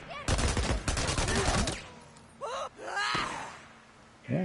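Shotgun blasts in Days Gone: a quick cluster of loud booms, then a few scattered shots and pained grunts.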